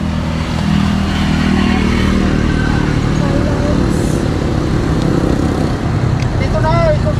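A motorized tricycle engine runs continuously at close range, a loud steady rattling drone with clattering, under people talking.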